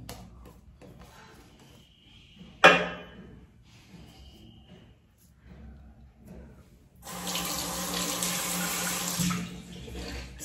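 Water runs from a bathroom tap during a wet shave with shaving soap, a steady close hiss of flowing water that starts after some quiet handling sounds and a brief clatter.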